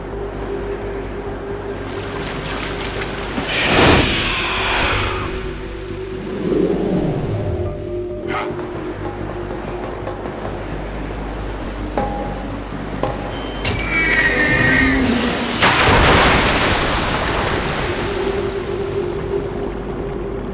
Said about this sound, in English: It's running water.